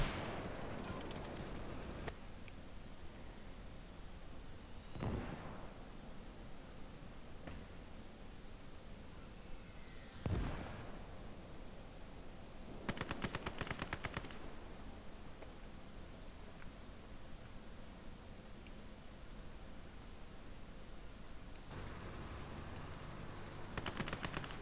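Gunfire in the World War II strategy game Gates of Hell on the Soviet side in Operation Bagration, a few sharp distant shots and a short burst of rapid fire over a constant noisy battlefield hiss.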